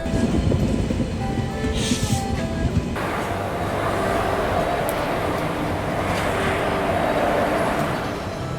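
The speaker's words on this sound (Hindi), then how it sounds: "तो अभी अपनी ट्रेन का अराइवल हो रहा है करजत रेलवे स्टेशन पे।" A train pulls into Karjat railway station in India, giving a steady loud rumble and rolling wheel noise close by, with no talk over it.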